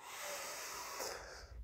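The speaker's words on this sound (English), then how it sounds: "So breathe into the heart space." One deep, slow breath drawn in as part of a breathing exercise, heard up close as a steady airy rush that swells and then eases off near the end.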